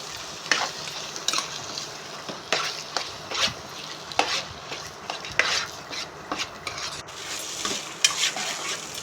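Ginger-garlic paste frying in oil in a pan, a soft sizzle under repeated scraping strokes of a spoon against the pan, close and irregular, with no talk.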